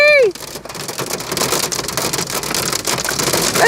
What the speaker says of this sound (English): That's straight up hail.